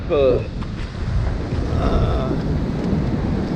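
Strong sea waves crash and roar during Storm Gloria in January 2020, a loud, continuous broadband rumble with gusty surges, and a voice is briefly heard at the start.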